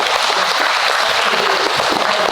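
An audience at a Livingston Parish millage meeting claps steadily, a dense, loud wash of applause filling the room without pause.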